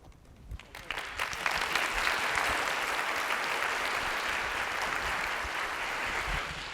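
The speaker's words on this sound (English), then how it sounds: "I think we need an extra round of applause" Applause at a cancer vaccine science symposium, clapping swelling after a second and holding steady and dense across the room until the end, with no speech over it.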